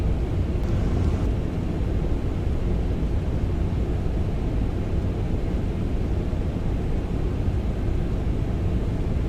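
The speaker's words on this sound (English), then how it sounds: "This is taking off from Myrtle Beach." A CRJ 900 takes off from Myrtle Beach in a flight simulator game, a steady, loud, low engine roar that holds evenly throughout with no other sounds standing out.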